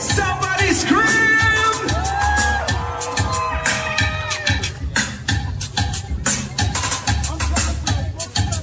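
A crowd at an outdoor Little Guyana avenue naming ceremony yells, whoops and cheers loudly and steadily for several seconds, with shouts and whistles rising over the din.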